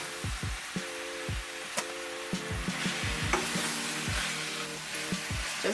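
Spinach wilting in a hot pan, stirred with a utensil for ricotta stuffed shells: a soft steady sizzle under repeated scraping, tapping strokes against the pan, close and moderately quiet with no talk.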